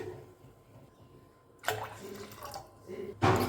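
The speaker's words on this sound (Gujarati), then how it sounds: "અને બે ગ્લાસ જેટલું પાણી ઉમેરી દેવાનું છે" Water poured from a glass into a large pressure cooker holding dal, made for dal pakwan, comes as two splashing, gurgling bursts over a quiet kitchen background, the second pour louder and sharper.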